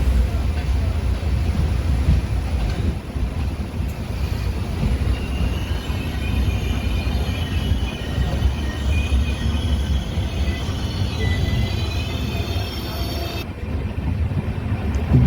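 A train pulls out of Suku station on the Koraput–Araku–Visakhapatnam line, its steady loud rumble and rolling rail noise filling the whole stretch, heard from on board.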